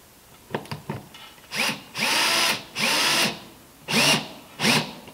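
A power drill drives screws through a wooden boat plank's scarf joint, several loud, close whirring bursts of about half a second each, preceded by a few short taps and quick starts.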